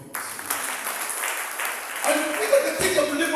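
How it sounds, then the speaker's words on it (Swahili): A church congregation bursts into steady applause during a worship service, many hands clapping together loudly and continuously with cheering voices mixed in. "Piga Yesu makofi."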